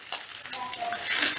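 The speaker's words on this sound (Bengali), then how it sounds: "আমি চালটা মোটামুটি 10 মিনিটের মতন ভাজা ভাজা করে নেব" Basmati rice dry-frying in a pan, a soft dry sizzle and stirring rustle close by, brief and steady.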